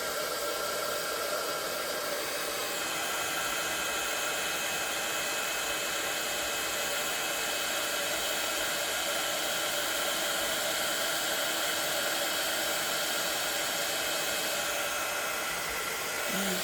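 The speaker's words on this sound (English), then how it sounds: "So I'm going to heat emboss that." A heat embossing tool blows hot air in a continuous, loud, hissing whoosh, steady and close for the whole stretch with no talking, used on a stamped artist trading card.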